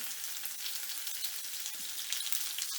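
Chopped shallots sautéing in a hot pan make a soft, continuous frying crackle and hiss at close range, with a few faint stirring scrapes and no talking.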